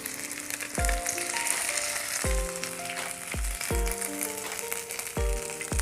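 Bangda mackerel frying in a pan, Maharashtrian style, a steady crackling sizzle broken by repeated sharp clinks and ringing metallic taps from a utensil against the pan, close and without talk.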